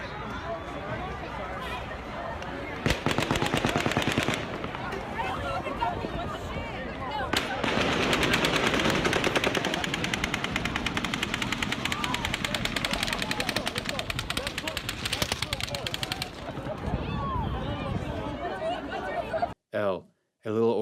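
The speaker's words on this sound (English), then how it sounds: "over 10 seconds of multiple gunshots are heard" Rapid bursts of automatic gunfire recorded during the Las Vegas shooting, long sustained volleys of dense repeated shots with brief pauses between strings, loud and distant-sounding, with voices and crowd noise mixed underneath.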